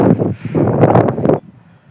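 Strong wind buffets the microphone on a mountaintop in Mustang, Nepal, a loud, rough roar that gusts for over a second before dropping away to a faint hiss.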